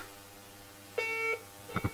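A telephone line cuts off during a call-in on an FM radio show, giving a clear beep tone followed by a couple of short, clipped pulses, fairly quiet with no voices.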